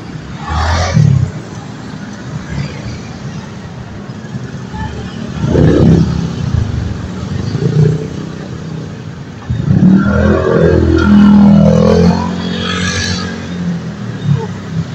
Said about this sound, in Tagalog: Dami sasakyan, oh.